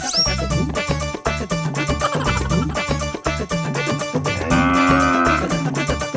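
A cow moos with drawn-out lowing calls that sit loudly within a dense, continuous music track, with no talk heard.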